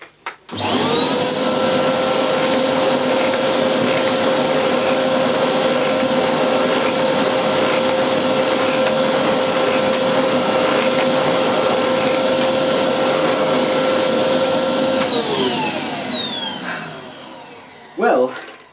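A Hoover Blaze bagless cylinder vacuum cleaner runs steadily on carpet, a loud, continuous whine with strong tonal hum that holds for about fifteen seconds before winding down, followed by a brief clunk.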